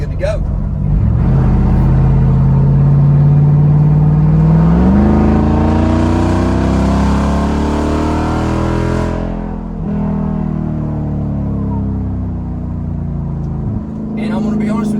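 A Jeep Wrangler Rubicon 392 with a straight-piped exhaust revs hard up close, a deep rumbling roar climbing in pitch, then settling into a loud, steady drone that fades slightly as it pulls away.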